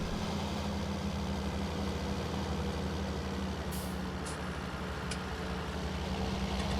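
A tractor engine in Farming Simulator 19 drones continuously at a steady low rumble, loud and close, with a couple of brief hissing bursts partway through.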